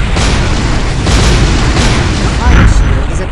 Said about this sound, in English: A stream of fireballs prevents anyone from going further.